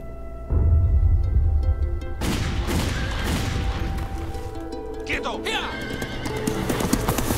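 A horse neighs and gallops in a Western film trailer, a loud whinny and pounding hooves after a sudden deep impact, with someone speaking over the scene.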